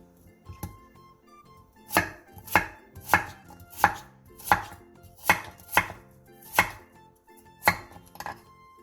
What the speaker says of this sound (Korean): 6cm 정도 두께의 무 한 토막도 오이와 비슷한 길이와 두께로 잘라주세요.